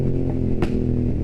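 A motorcycle engine lets out a single loud bang, sharp as a gunshot, over a steady close rumble during a night ride.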